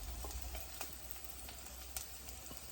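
Julienned ginger, garlic, shallots and green chilli sautéing in a pan: a faint, steady crackling sizzle fills the whole stretch, with a few soft stirring clicks and no voices.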